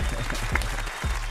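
Studio applause for a rapper during a radio interview, a short burst of clapping from a small group that stays even throughout, with faint voices underneath.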